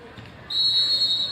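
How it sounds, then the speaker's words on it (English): A referee's whistle sounds at the opening tip-off of a varsity boys basketball game in a high school gymnasium, a sharp sustained shrill blast starting midway and holding steady over low crowd murmur. "Ref blows the whistle, puts the ball up in the air"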